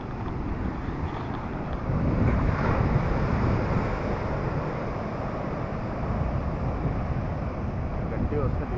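Sea waves surge onto a beach at Varkala, heard as a continuous broad roar that swells and ebbs, mixed with wind buffeting the microphone.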